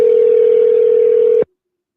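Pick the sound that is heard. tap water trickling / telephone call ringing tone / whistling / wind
telephone call ringing tone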